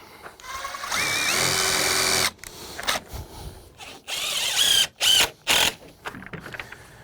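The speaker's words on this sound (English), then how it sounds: "Or you can pre-drill the hole." A power drill pre-drilling a hole while building a deck whirs in a long continuous burst, then several shorter on-off bursts follow, close and loud.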